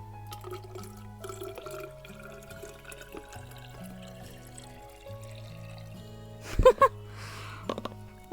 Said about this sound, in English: I'm just gonna refill my water bottle